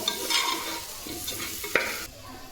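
Chopped potato stirred into fried masala in a pan, a short burst of sizzling with a few scraping spatula strokes and one sharp knock near the end.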